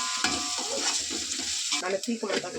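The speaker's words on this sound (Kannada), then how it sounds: "ಇದರಲ್ಲೇ ಹಾಕಿ ಈ ರೀತಿ ರೋಸ್ಟ್ ಮಾಡಬೇಕು." Spices and turmeric roasting in a pan for biryani, with a steady close sizzle and the rhythmic scrape of a spoon stirring through the mix.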